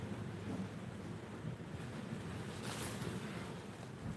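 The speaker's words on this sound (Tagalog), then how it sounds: "Malakas na yung hangin." Strong wind blusters steadily against the microphone outdoors, a low continuous rumble with a brief louder gust partway through and no voices.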